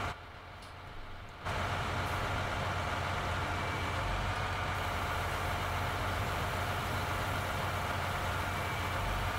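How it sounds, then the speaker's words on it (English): Tractor engine in Farming Simulator 19 idling and backing up, a steady low droning rumble that steps up in loudness after a second and then holds constant, with no talking. "Now we'll back up the tractor."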